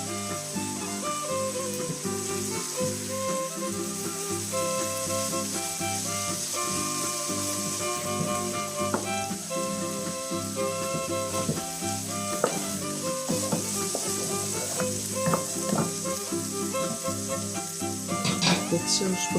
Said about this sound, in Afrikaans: Witsous begin kook.